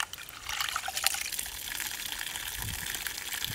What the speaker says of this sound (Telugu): ఈ బియ్యాన్ని శుభ్రంగా రెండుసార్లు బాగా కడుక్కోవాలండి.